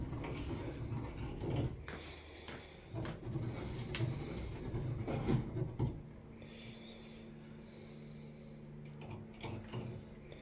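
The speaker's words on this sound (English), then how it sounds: "I would get that reamer and ream it." A hand reamer works the cut end of a pipe during bathroom vanity and sink installation, giving uneven grinding and scraping twists in short bursts up close, then trailing off into quiet clicks.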